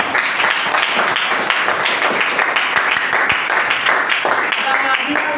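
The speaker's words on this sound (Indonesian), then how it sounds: "Kasih tepuk tangan." A classroom of students claps together in a dense, steady burst of applause lasting several seconds, with children's voices mixed in underneath.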